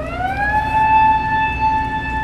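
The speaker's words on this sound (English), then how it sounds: "you hear these tornado sirens going off" Outdoor tornado warning sirens in Siouxland sound a long wailing tone that rises at the start and then holds steady, loud and continuous with no voices.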